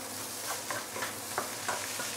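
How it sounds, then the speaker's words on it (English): A spatula scrapes and tosses fried rice with five-spice meat cubes, spring onion and white pepper in a hot pan, producing soft rhythmic scraping strokes over a low steady sizzle, close and fairly quiet. "Give it a few stir."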